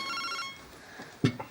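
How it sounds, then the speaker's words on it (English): A telephone rings in a domestic scene, its electronic bell tone sounding clearly at first, then a couple of soft knocks follow. "Think that might be your phone, love?"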